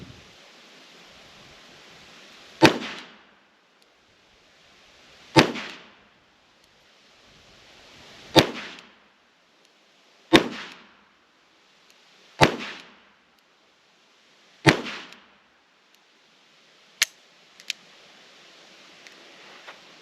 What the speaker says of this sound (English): Let's see if we can get a couple more shots off before we go and look at our target.